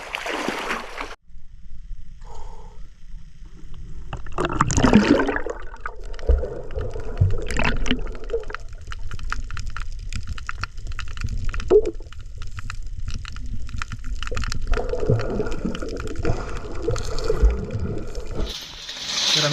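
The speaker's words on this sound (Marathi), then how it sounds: "आपण एक मस्त डुबकी मारूया समोर जाऊन" Water sloshes and splashes nearby in irregular bursts, with gurgling and churning that rise and fall over a steady rushing flow, as if someone moves through a river.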